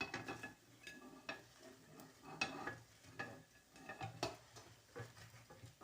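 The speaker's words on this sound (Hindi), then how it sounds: "देखें इनकी खस्तापन की आवाज़ आ रही है जब मैं निकाल रही हूँ" Crisp crackling and light clattering as fried mixed vegetable rolls are lifted from hot oil, with a soft sizzle underneath and scattered clinks of utensils.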